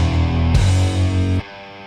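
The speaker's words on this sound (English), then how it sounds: "The intro to the song, we have a few open guitar stabs." Open electric guitar stabs with heavy fuzz, as in the intro of a song, in a cover version: a sustained chord changes to a second chord at about half a second, rings loud, then cuts off sharply.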